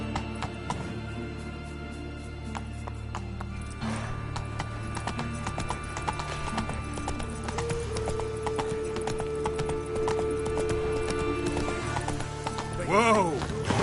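Roach trots through a video game world with a rapid, steady patter of hooves that runs throughout, a whinny near the end, and speech over the game sound.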